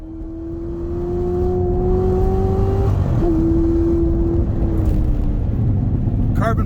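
A 2019 Chevrolet Corvette ZR1 engine in race mode holds a steady, loud drone with a brief dip and rev shift midway, its exhaust note strong throughout, ending with a short sharp burst; no one speaks.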